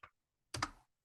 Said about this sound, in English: let's type a Bible Gateway in